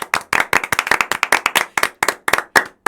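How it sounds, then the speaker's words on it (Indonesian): A small studio audience at a podcast recording claps together, a close and steady patter of quick hand claps lasting a few seconds before stopping. "tepuk tangan dulu, tepuk tangan."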